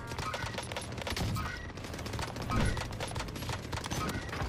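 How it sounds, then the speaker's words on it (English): Rapid automatic fire from an Automaton gun shooting missiles in a video game, a dense and continuous stream of shots that stays fairly loud with a brief swell in the middle. "We are shooting missiles."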